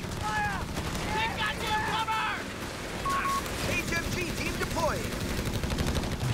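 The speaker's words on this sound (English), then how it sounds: "HMG team and a buttload of rounds dropping in." Heavy machine gun fire in a Company of Heroes 3 2v2 match, rapid bursts and battlefield clatter running throughout under a commentator's continuous talk.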